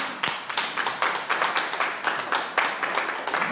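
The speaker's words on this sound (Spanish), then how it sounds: "Dale un aplauso al Señor." Rhythmic clapping from a church congregation praising God during a sermon, steady close claps in a regular beat with no talking over it.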